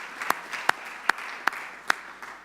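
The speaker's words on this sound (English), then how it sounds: "A big applause." Sparse, evenly spaced hand claps ring out about five times over a quiet room at a conference plenary, fairly faint and without voices.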